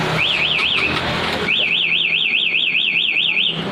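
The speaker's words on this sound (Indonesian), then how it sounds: "Caranya pencet tombol 1 kali, mesin mati dan alarm berbunyi." A Honda CBR150 motorcycle alarm set off by its remote, a loud, close electronic siren warbling rapidly up and down in two bursts, a short one and then a longer steady run.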